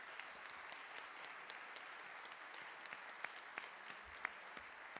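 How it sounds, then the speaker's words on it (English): A town hall audience at a candidates' debate in Nanaimo–Ladysmith applauds the candidates, a steady, moderately distant wash of many hands clapping with a few sharper individual claps standing out. "let's have a round of applause for all of the candidates"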